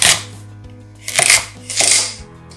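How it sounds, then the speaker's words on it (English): Knife slicing peeled potatoes, carrots and onions into thick pieces on a board, three separate broadband bursts of cutting over a steady low hum, close and fairly loud. "Peel them and then slice them thickly"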